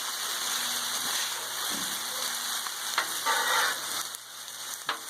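Chicken teriyaki sizzles steadily in a pan as it is stirred into its sauce, a continuous close frying hiss broken by a few scraping stirs, with no talking.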